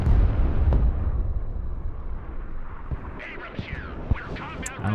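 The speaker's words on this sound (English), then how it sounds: "Got my own F-18 Hornet, gonna do a bombing run." Bombs from an F-18 Hornet bombing run in the video game Broken Arrow land in a loud, rumbling explosion that rolls and fades, followed by scattered smaller pops and distant crackles.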